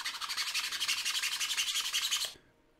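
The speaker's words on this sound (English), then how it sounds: "I have to sand them down to reduce the friction when inserting them." Layer lines are sanded off a 3D-printed plastic guitar part, a rapid back-and-forth scratchy rubbing with rhythmic strokes for about two seconds before it stops abruptly, close and alone.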